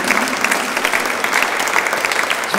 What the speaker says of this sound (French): Je peux vous applaudir merci